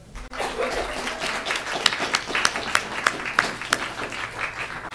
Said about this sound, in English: give a round of applause for my chief roadie